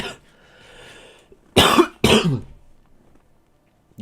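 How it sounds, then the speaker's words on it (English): A person gives two loud, harsh coughs close to the microphone, back to back, with quiet before and after. "I'm coughing up like chunks."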